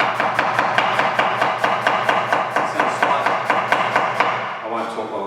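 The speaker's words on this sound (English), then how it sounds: "I won't talk while I'm chopping, it's a bit loud." A knife chops an onion on a cutting board in a quick, even rhythm of about three sharp strikes per second, loud and close, slowing to a few softer cuts at the end.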